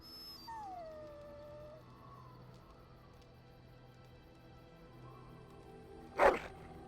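Dog howling in the Dragon Age Origins video game, a soft drawn-out rising howl near the start over quiet ambience, followed later by a short sharp burst.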